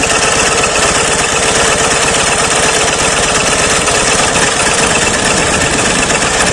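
A K-750 motorcycle engine runs on its first ride out, a loud, close, rough rumbling throb that holds steady throughout and fills the whole clip, with no talking.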